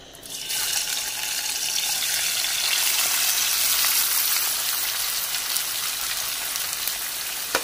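Potatoes hit hot ghee and set off a loud, steady hiss of frying that swells at once and stays constant and close.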